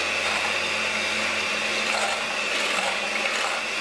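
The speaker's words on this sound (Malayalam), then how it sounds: "ഒരു ബീറ്റർ ഉപയോഗിച്ച് ഇതൊന്ന് ബീറ്റ് ചെയ്ത് കൊടുക്കാം." An electric beater whirs steadily through a coffee butterscotch pudding mixture, a loud, continuous motor drone with a grinding, rubbing texture and no voices.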